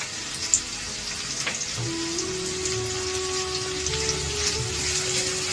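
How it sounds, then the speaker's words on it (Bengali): Onion frying in white oil with a little salt for Murshidabadi Shirazi chicken korma, a steady close crackle and sizzle with scattered pops, with faint tonal background hum and no speech. "এবার পেঁয়াজটি আমি লালচে করে ভেজে নেব"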